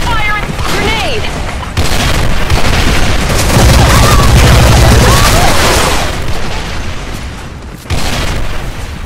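A grenade explosion and gunfire in the video game Special Force 2: a loud, dense barrage of booms and rattling shots lasting several seconds, with abrupt new blasts near the start and end, and voices partly buried underneath.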